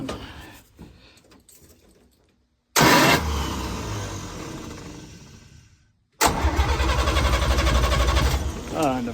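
A 1954 International Metro engine cranks, briefly fires roughly as if on one cylinder and dies, then catches again with a loud, uneven running sound, close and dominant with nearby talk.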